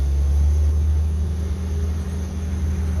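An old Jeep engine pulling in first gear, a steady loud low rumble with a constant drone, heard from inside the vehicle without talking.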